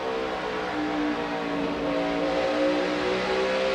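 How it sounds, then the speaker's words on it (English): NASCAR Cup race cars accelerate at Bristol Motor Speedway, a steady dense engine roar with rising tonal whine filling the whole stretch, loud and continuous with no voices. "The difference this time, Kyle Busch got back to the throttle first."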